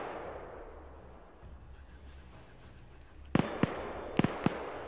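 Sharp gunshots ring out in a military video game operation, four or five separate cracks in quick succession after a stretch of quiet rumbling ambience, fairly loud and close.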